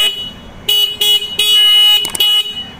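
A loud, shrill motorbike horn, a Roots vibrosonic dual-head horn, blares in four close bursts, one held longer than the rest, with quiet in between.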